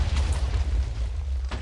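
A Minecraft cannon fires in a heavy, sustained low boom that rumbles loud and close throughout, with a sharper burst near the end and no talk.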